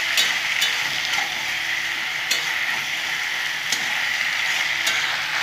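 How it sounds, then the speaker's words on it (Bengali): Food sizzles steadily in a hot pan while ingredients for a red lentil and basmati rice khichdi are fried, with a continuous bright crackle and a few sharper clicks of stirring. "সুন্দর করে আমি একটু ভাজা ভাজা করে নেব।"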